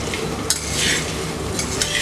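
Poha chivda being stirred and tossed in a pan, a close, dense rustling scrape with faint sizzle and occasional spoon clinks throughout.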